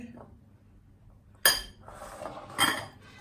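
A bowl is taken out and set down for butter while making almond cake: quiet at first, then a sharp ceramic clatter as it lands, followed by further clinks and a second knock.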